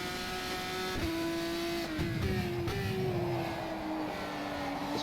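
Formula 2 car in a sim racing game at Barcelona, engine held at full throttle: a steady high-pitched whine climbs through the revs, with brief dips at gear changes, continuous and alone.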